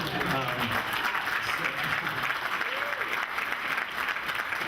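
Wedding guests applaud steadily throughout, a dense wash of clapping from a crowd in a reception room, with a voice partly audible beneath it.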